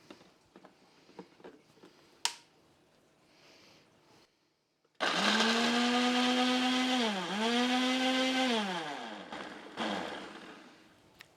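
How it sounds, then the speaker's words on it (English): Ninja blender whirring through horseradish with vinegar, loud motor roar starting abruptly after a few quiet clicks and handling sounds, pitch dipping and rising as the blades bog and recover before shutting off. "Get our blender bottom on there and onto our Ninja."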